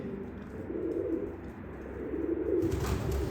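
Young American Show pigeons coo in a home coop, a low, steady, continuous cooing heard up close with no talk over it.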